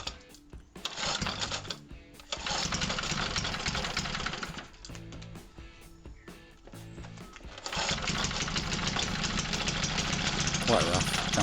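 The small engine of a Howard Bullfinch rotary hoe, unbolted from its machine, runs rough and uneven in loud close bursts, dropping back between them before running on steadily, while someone talks over it.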